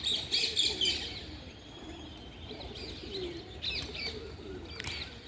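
Pigeons on a rooftop garden coo softly in low repeated calls, with brief sharper chirps from smaller birds overhead, all faint and nearby in a quiet outdoor setting.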